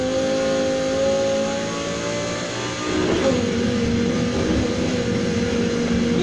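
A 2019 Audi R8 V10 Performance in the racing game Need for Speed Heat, its V10 engine droning and revving loudly with rising and falling pitch as gears shift, close and continuous with no talking.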